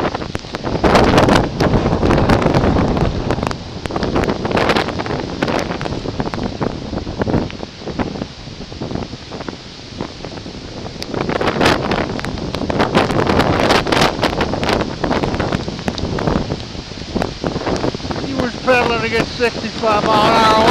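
Hurricane Sandy winds of about 65 mph roar in loud, gusting bursts at the Jersey Shore at night, buffeting the microphone with heavy blasts that rise and fall, while someone speaks and shouts in between.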